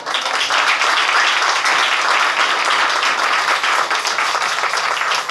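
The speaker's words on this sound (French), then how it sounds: "applaudissez Seigneur" A church congregation applauding during a pastor's sermon, loud dense clapping that stays continuous and even from start to finish.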